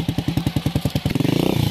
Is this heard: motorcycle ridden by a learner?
yes